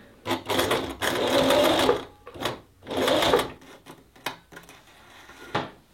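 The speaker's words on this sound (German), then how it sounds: "Und ich nähe außerdem auch in die falsche Richtung." A sewing machine stitches a curtain seam in a house under renovation, running in loud, close bursts of rapid whirring that stop and restart, followed by a few short clicks.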